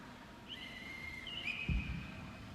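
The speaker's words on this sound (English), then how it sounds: "that's the round 3 whistle, which means we have the end of round 3" A referee's whistle at a televised youth quiz competition, a D.A.R.E. challenge, marks the end of a round with a thin, fairly faint tone that rises and holds for about a second over a low room murmur.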